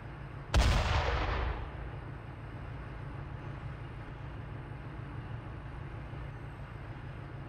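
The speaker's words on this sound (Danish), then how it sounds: "firing with mortar on infantry in grid square 2-4-4-7" Mortar fire in the Steel Beasts Pro PE tank simulator game, played by a Danish platoon: a single loud, close blast that dies away quickly over a steady low engine hum that continues to the end.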